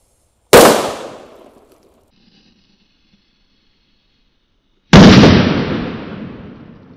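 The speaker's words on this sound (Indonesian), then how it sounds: "ini ada mercon happy flower warna ungu ya ini nggak ada lap-lapnya langsung dor" Two loud, sharp bangs from a purple happy flower firecracker set off in a hole in the ground, each a sudden crack followed by a decaying rumble, a few seconds apart with quiet between them.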